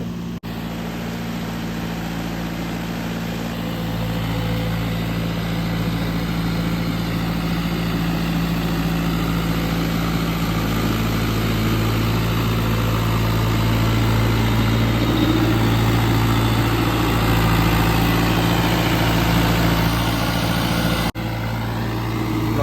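A tractor engine runs with a rotavator attached while puddling a field, a loud, steady low drone that holds throughout with only slight swells and no pauses.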